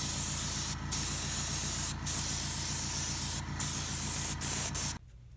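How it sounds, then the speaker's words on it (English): Airbrush spraying Tamiya XF57 buff over a Panzer IV scale model, a close, steady hiss broken by several brief stops before it cuts off completely near the end. "I'm going to give my entire model a light tint of XF57 buff to give dust effects"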